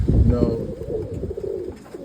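Roller pigeons coo in a low, murmuring stream close by, the soft throaty calls overlapping steadily under a man's speech.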